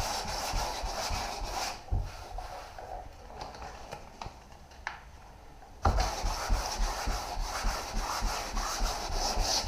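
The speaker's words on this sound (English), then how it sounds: "They're pretty handy, those softback sanding sponges." Softback sanding sponge lightly blocking a thin primer coat, a soft rhythmic rubbing that is quieter in the middle stretch and grows fuller again toward the end.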